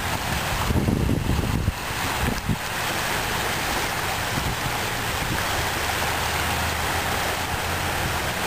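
Surf washing onto an oil-fouled beach littered with tar balls and floating garbage, a steady close roar of breaking water with a heavier crash near the start, no voices.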